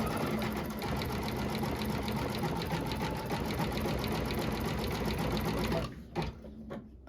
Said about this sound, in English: Now we're going to do the satin stitching around the edges.